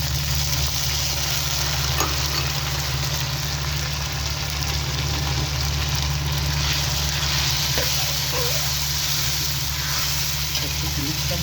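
Onions and tomatoes sizzle steadily in oil in a pan for quail karahi, a constant close frying hiss with a low hum underneath and a few small stirring clicks.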